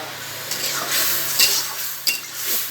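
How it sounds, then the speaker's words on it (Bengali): Taro curry is stir-fried in a pan, with soft sizzling and scraping stir strokes, a few sharper clinks of the utensil against the pan, heard close and alone. "কচুটা কষিয়ে নিই।"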